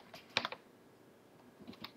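Keys tapped on a computer keyboard while entering a search in a web browser, a quick cluster of clicky strokes near the start and a few more near the end, close and fairly quiet.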